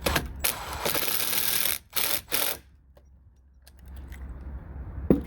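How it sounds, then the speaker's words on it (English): Power drill driving a screw into a fence post cap, a loud sustained whirring buzz broken by short stops, followed by quieter rustling and a faint click. "what I'm going to do is just go ahead and then screw the cap in"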